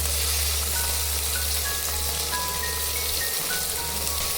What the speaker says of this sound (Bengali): তেলটা ভালোভাবে গরম হলে আঁচ একটু কমিয়ে ইলিশ মাছের টুকরোগুলো হালকা করে ভেজে নেওয়া হচ্ছে